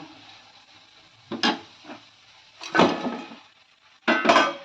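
Chicken pieces stirred into a pan with other ingredients: three short bursts of metal scraping and clattering against the pan, separated by near-quiet gaps, close and alone.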